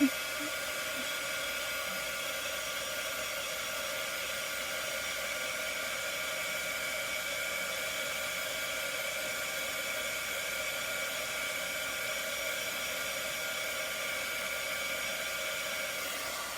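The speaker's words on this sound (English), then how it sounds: "I'm going to use my heat tool again just to dry that up." A craft heat tool blows steadily to dry paint on a wooden owl craft piece, a continuous close, loud whooshing hiss that holds unbroken throughout.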